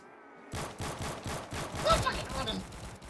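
Rapid gunfire from a gun in the Roblox game Recoil Zombies crackles in a fast, steady burst of close, loud shots lasting a few seconds, with a voice shouting over it.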